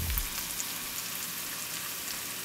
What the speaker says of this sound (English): And then let it all saute together.